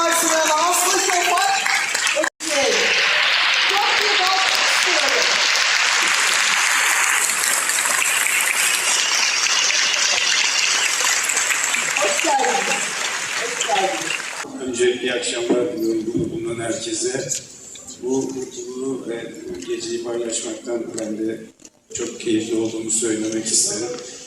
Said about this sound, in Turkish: Kocaman alkışlar